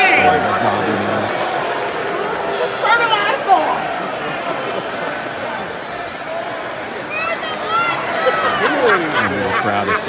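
Crowd at an AEW professional wrestling live event in Nashville, a steady arena hubbub of chatter and murmuring voices with occasional louder swells and shouts, continuous for the whole stretch.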